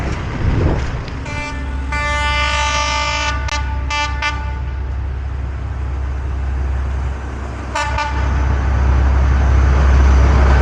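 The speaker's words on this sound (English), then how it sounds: "That's the railway bridge. The train just came over." A train crossing a railway bridge on a coastal road in Vietnam, a loud continuous rumble of wheels on track with a long horn blast early on and a second short toot later, close and dominant throughout.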